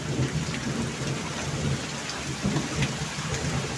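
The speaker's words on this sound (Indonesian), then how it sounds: "Karena hujannya makin deras." Heavy rain pours steadily during a village flood, a dense continuous hiss of rain beating on surfaces, close and loud, with no voices.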